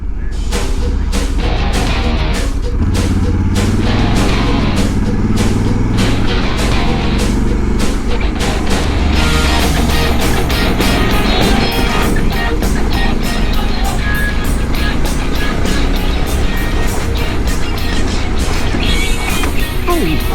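Honda Africa Twin motorcycle riding on gravel, a loud continuous engine rumble with heavy wind and crunching road noise close to the rider, and speech over it.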